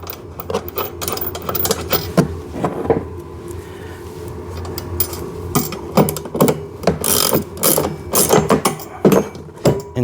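A hand tool tightens a nut and washer on a bolt during assembly of a kids' 4x4 two-seater ride-on car, with irregular ratcheting, scraping and mechanical clicks close by.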